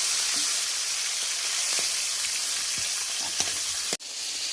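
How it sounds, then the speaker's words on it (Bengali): Masala-coated fish fries in a pan of oil, a steady close sizzle with occasional light crackles and a sharp clatter near the end. "বন্ধুরা মশলা তো মাখিয়ে রেখেছিলাম মাছগুলোতে, এবার আমি মাছগুলো ভেজে নেব।"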